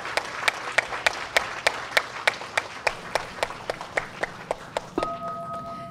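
Synchronized, evenly paced clapping from an audience at a Buddhist homa fire ceremony, with about twenty sharp claps in a steady beat, followed by a sustained ringing tone near the end.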